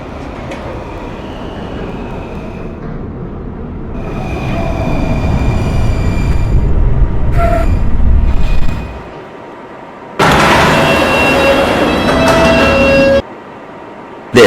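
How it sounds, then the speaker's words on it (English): A New York City subway E train pulls out of 67th Street station, rumbling and rolling loudly and close by, dropping away to near quiet, then a second burst of loud, steady track noise follows. "This is a Union Turnpike bound E train."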